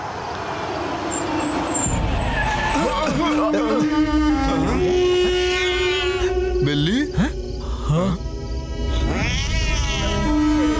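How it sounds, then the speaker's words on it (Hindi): A cat meows in a Hindi-dubbed South Indian horror film, with several rising and falling wails standing out over a busy soundtrack of traffic, air-brake hiss and voices. "बिल्ली ने रास्ता काट दिया"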